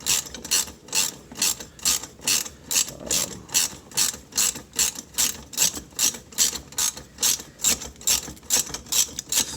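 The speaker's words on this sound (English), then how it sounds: "So I'm going to hold the bolt while I remove the socket." A socket wrench ratchet clicking as a socket is worked off a bolt on a Sea Doo Spark, loud close repeated bursts of rapid clicks in an even back-and-forth rhythm.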